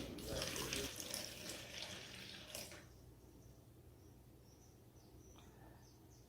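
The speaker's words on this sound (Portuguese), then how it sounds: "Aqui eu vou botar um copo de água." A cup of water poured out for mixing plaster to cast a vase, a steady splashing rush for about three seconds, then a quiet room with faint drips and light background sounds.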